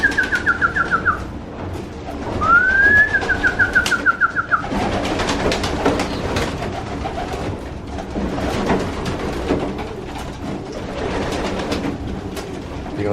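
Pigeons in a large loft holding young birds, breeders and cocks, with rising coos and calls early on, wing flaps and shuffling movement continuing steadily throughout at close range.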